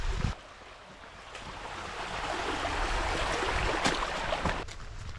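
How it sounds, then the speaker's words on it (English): Creek water flowing over a trail crossing on the hike to Bearden Falls in North Georgia, a steady close rushing wash that swells slightly after a brief bump at the start, with no talking. "you're going to come up to your very first creek crossing"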